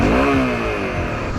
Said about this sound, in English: you can hear me revving away on my engine